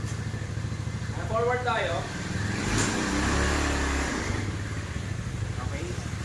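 A 200cc automatic UTV 4x2 buggy engine turns over and revs up, a rising mid-pitched motor roar that swells and settles into a steady drone, with someone talking over it.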